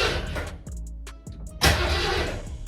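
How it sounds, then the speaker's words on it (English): A 1979 Ford Bronco engine cranks over without catching, its starter churning loudly and steadily with brief dips and a surge partway through. "Yeah, that's the Bronco cranking."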